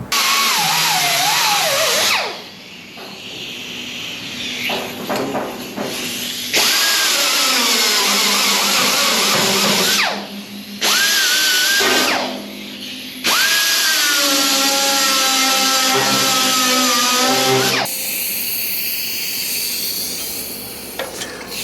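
Power tool grinding out old welds on a steel truck bed being fitted with tilt-bed scissor hinges, a loud, harsh whine running in several long bursts separated by brief pauses, close up with no talking.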